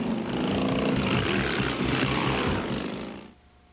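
News helicopter with onboard mounted cameras flying overhead, a loud steady rotor and engine roar with rhythmic blade chop that holds for about three seconds and then fades off sharply.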